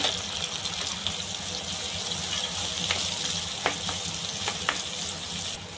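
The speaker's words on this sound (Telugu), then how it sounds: "సన్నగా పొడుగ్గా తరిగిన ఈ టమాటోలు వేసుకొని బాగా ఫ్రై చేసుకోవాలి ఫ్రెండ్స్" Thinly sliced tomatoes sizzle and fry in a pan, a steady close crackle throughout with a few brief clinks of stirring.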